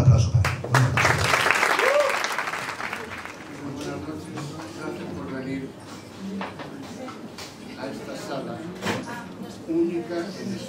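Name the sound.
audience applause for a bolero singer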